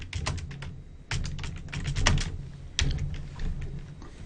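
Bursts of typing on a computer keyboard while entering a description in office design software, rapid clustered keystrokes in three runs separated by brief pauses, close and clear with no talking.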